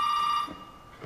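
An antique telephone rings in the Resident Evil 7 video game, a bright, sustained bell tone heard alone for a short burst before it abruptly cuts off.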